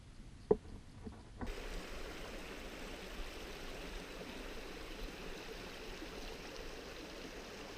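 A river flows beside a Sedona hiking trail, a steady, moderately faint rush of water that begins after a couple of soft knocks, then continues evenly with no talking.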